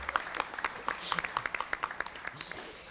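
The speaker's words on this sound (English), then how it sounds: "Keep it going as she walks through the sea of 600 people." Steady hand clapping from an audience of about 600 at a morning networking breakfast, individual claps standing out in an irregular rhythm, with a voice speaking over it.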